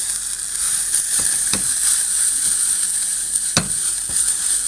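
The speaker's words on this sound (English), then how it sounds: "So just fry it up." Beef strips frying in a pan, a steady close sizzle with occasional clinks and scrapes of stirring.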